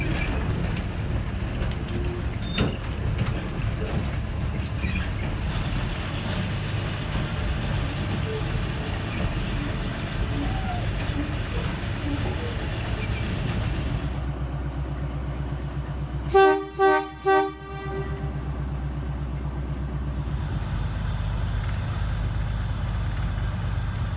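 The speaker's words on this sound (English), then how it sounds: "The driver was blowing the horn to indicate to the guard that there are some passengers who want to have a ride on the" A locomotive horn blows at Hunter Valley Steamfest in short, loud repeated blasts over a steady rail rumble, then the rumble carries on after it.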